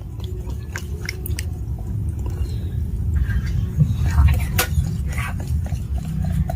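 Rice flour batter for patishapta pitha is mixed with water by hand, making wet squelching and squishing close by, with small drips and splashes that grow a little louder partway through.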